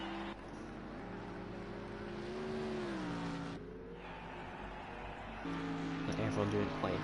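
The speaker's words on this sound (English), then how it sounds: "A car is going to come around to take" A race car in Project Cars 2 drives across the finish line at Dubai Autodrome, a steady engine drone with shifting pitch running under a commentator's continuous talk.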